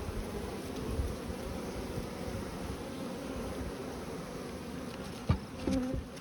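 Honeybees hum around a hive box of brood, a dense, steady, close buzz that continues throughout, with a brief knock near the end.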